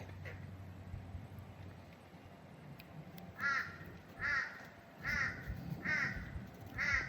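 Crows caw outdoors in a series of five or six loud, harsh calls spaced roughly a second apart, following a quiet stretch of low ambient rumble.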